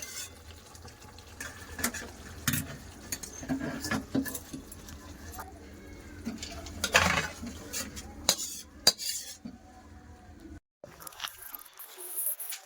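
Rui fish curry with coriander leaves is poured and scraped out of a pan, producing irregular metallic clinks and scrapes of a spoon against the pan, quiet and close, with brief pauses.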